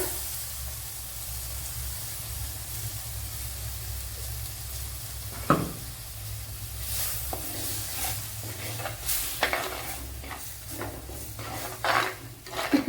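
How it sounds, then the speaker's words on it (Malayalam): Tomato paste poured into spice powder frying in a pan for a Kerala vaala fish curry, giving a steady sizzle with a sharp burst midway and louder crackling, stirring clatter toward the end. "അതിലേക്ക് ഈ തക്കാളി പേസ്റ്റ് ഒഴിച്ചു കൊടുക്കുക"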